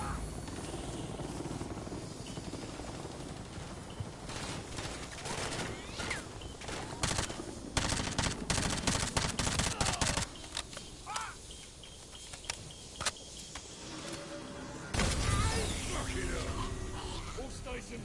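Combat in a military shooter game, where a helicopter's rotor drone runs under bursts of gunfire aimed at it, with rapid rattling volleys in the middle and radio chatter between the shots.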